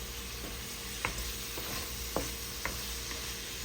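Chicken pieces being stirred and cooked in a pan with fish sauce, a steady sizzle broken by several sharp scraping clicks of a utensil against the pan, close and moderately loud with no talking.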